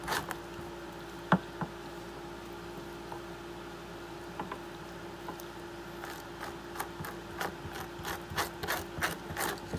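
Scraper rasping along the edges of a fish skin during taxidermy prep, soft rubbing at first, then quicker repeated scratchy strokes growing denser toward the end, close and fairly quiet.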